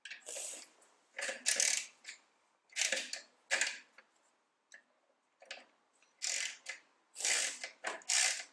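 A socket wrench ratchets off nuts on the rear brake drum of a Ferguson TED20 tractor, with rapid clicking bursts separated by short pauses, close and fairly quiet.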